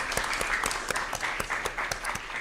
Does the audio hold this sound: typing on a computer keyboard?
no